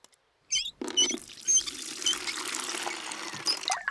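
Water pours and patters into a bucket in a cartoon scene, a near trickling splash starting after a short silence and continuing steadily with a few light squeaks.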